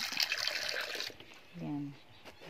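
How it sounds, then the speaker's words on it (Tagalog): Water poured into a container for caged chickens makes a short, close splashing rush for about a second, then falls quiet as a brief voice is heard. "Yan, lalagyan ko sa tubig."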